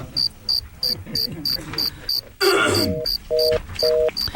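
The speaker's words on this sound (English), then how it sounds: "Can somebody reach the crickets?" Cricket chirping plays as a sound effect on a radio talk show, with regular sharp pulses repeating about twice a second, loud and close, briefly broken by a burst of noise before further electronic beeps join in.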